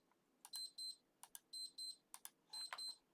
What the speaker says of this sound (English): Alarm decides to go off while I'm in the middle of the video.